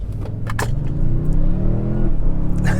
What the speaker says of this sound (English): I'd actually like to show you how this truck accelerates when you don't use brake torque